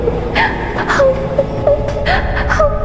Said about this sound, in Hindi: ये कौन रो रहा है?